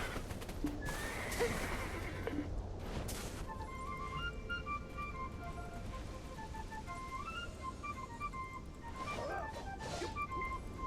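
Horses whinny and hooves clip-clop in a busy Black Desert game soundscape, with a melodic chiming tune and layered effects throughout.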